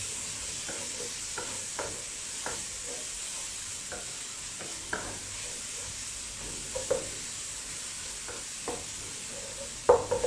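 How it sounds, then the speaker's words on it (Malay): Steady sizzling hiss of corn and beef frying in a pan, broken by occasional clinks and scrapes of stirring, with a few louder knocks near the end. "Kita goreng dia."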